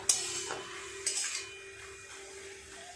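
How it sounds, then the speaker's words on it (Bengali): Red amaranth greens are stirred in a cooking pot, with a few sharp metallic clinks and scrapes of a utensil against the pot over a faint background hum, close and without talk. "এবার নেড়ে চেড়ে শুকনো করে নিলেই হবে।"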